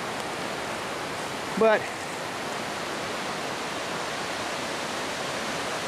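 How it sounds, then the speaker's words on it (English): The Santiam River flowing nearby, heard as a steady broadband rush like a stream or small waterfall running continuously, with one brief spoken word partway through. "the river's right down there."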